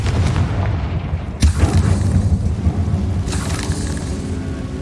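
The Bombarda explosion spell in the video game Hogwarts Legacy goes off as a loud, deep boom with a sharp blast partway through, followed by rumbling debris and a continuous low roar.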